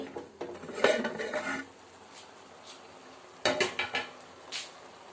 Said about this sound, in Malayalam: ഇനി നമുക്ക് ഈ അടപ്പൊന്ന് മാറ്റി നോക്കാവേ